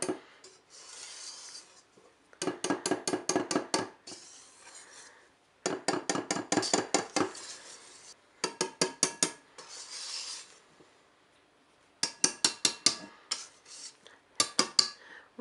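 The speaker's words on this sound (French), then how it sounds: "je vais mélanger délicatement pour ne pas faire retomber les œufs" A whisk or spatula scrapes and taps rhythmically against a bowl, gently folding cake batter with beaten eggs, in bursts of rapid strokes separated by short pauses.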